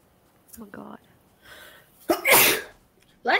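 A single loud, sharp sneeze bursts out after some muffled vocal sounds, with another short burst at the end, heard during a heated Fortnite gaming session.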